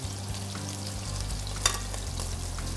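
Butter and beef short ribs sear in a hot heavy-bottomed pan with a thin layer of oil, a loud steady sizzle with a low hum and one brief sharp crackle midway, no voices.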